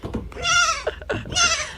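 A goat perched on a roof lets out two long, loud, wavering bleats close by, separated by a brief pause.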